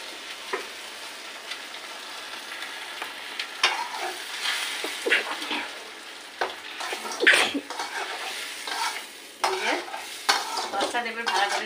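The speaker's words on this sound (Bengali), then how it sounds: "সসটা দেবে ভালো করে নাড়াচাড়া দিয়ে নিলাম।" Pasta being stirred through sauce with a splash of water in a kadai, soft scraping and wet stirring strokes with a light sizzle underneath, fairly close, no voices.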